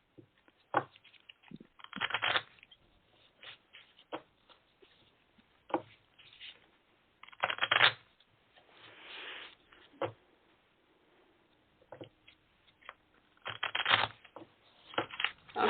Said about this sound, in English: I'm going to shuffle the cards and ask, and you tell me when to stop.